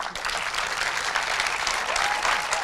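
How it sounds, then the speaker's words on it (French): An audience at a patient talent awards ceremony claps warmly for the winners, a brief, full burst of steady applause with no voices over it. "on va les applaudir très fort."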